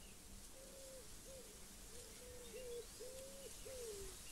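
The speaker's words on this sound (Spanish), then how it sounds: "Disfruta del canto de los pájaros" Soft cooing bird calls repeat about six times in a quiet outdoor setting, each a smooth low tone, faint and alone over light background hiss.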